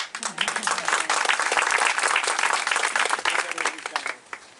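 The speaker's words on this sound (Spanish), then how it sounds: "Un aplauso a Jesucristo por el ministerio de ellos." An audience at a church service breaks into sustained clapping and applause for about four seconds, dense and lively, before tapering off at the end.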